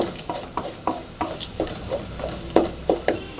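Carrot halwa with cashews being stirred in a pan, a spoon scraping through the thick mixture in a steady run of about a dozen soft, evenly spaced strokes, close and alone with no talk.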